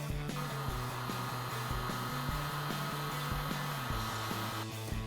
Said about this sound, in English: we're going to grab our heat gun so that we can shrink our butt connectors down and make these seal up